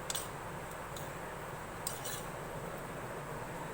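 A spoon mixes a chicken filling with crushed red chilli and chicken powder in a bowl, giving a few faint, scattered clinks over a steady low background hiss, with no talking.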